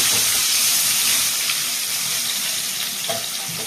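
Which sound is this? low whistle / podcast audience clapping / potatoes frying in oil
potatoes frying in oil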